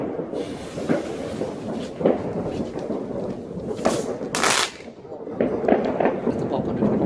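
New Year's Eve firecrackers and fireworks go off outdoors, with several sharp bangs and crackling bursts scattered irregularly, some close and loud, while people talk throughout.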